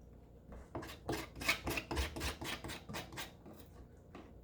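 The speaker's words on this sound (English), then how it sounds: "I get the end of the stem, and I just scrape it off with the end part of the knife" A knife edge scrapes the cut end of a plant stem in a quick run of about a dozen rasping strokes, close and fairly quiet, with nothing else heard.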